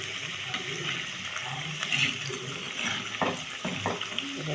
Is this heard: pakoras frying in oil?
yes